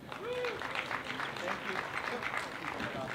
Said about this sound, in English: How about a nice round of applause, everybody,